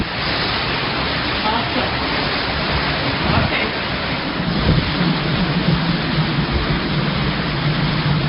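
Heavy rain and wind from Hurricane Irma roar as a steady, dense wash of noise, loud and constant with a slight swell partway through.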